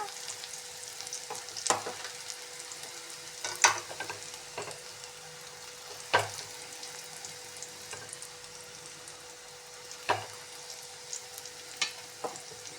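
A curry fries in a pan with chili powder stirred in, a faint continuous sizzle under occasional soft scrapes and clinks, fairly quiet and without speech.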